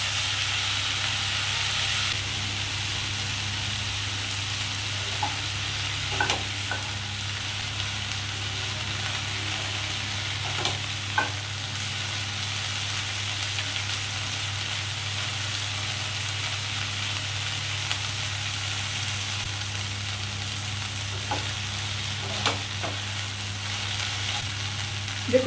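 Cut okra fries in oil on a gas stove with a continuous even sizzle for the whole stretch, broken only by a few faint stirring clicks and taps.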